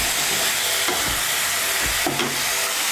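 Boiled chickpeas sizzle and fry in a pan over raised heat as spice is added, a steady, close crackling hiss with a few soft stirring scrapes.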